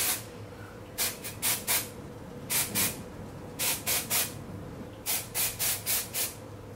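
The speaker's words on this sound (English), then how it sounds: "I shake it up first and just start spraying" Short bursts of aerosol hair spray hiss out in quick clusters of two or three, close and fairly soft, with pauses between.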